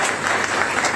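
Audience applause at an inauguration event welcoming a speaker, a short burst of steady crowd clapping, even and fairly loud.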